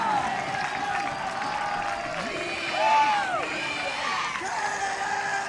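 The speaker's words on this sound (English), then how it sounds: "the crowd is already pretty rowdy here in Cincinnati" A rowdy crowd cheers and claps steadily at a college ultimate championship semifinal near Cincinnati, a continuous wash of voices and applause with a brief louder swell near the middle.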